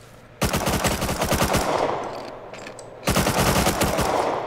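Rapid automatic fire from an MP5 submachine gun in a video game, two loud sustained bursts of dense shots separated by a brief lull, with no talking.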